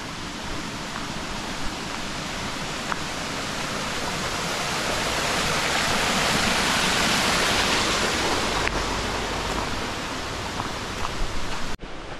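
Bridal Falls waterfall rushes in a loud, steady broadband roar that swells slightly midway, heard up close with no talking.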